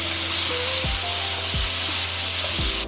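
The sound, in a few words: cumin, garlic ginger paste and green chilies frying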